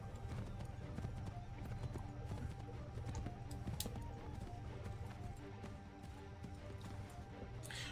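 Hooves of a horse clip-clop steadily in the Assassin's Creed 3 Remastered video game, a continuous trotting rhythm set within a busy, dense mix of game ambience and music.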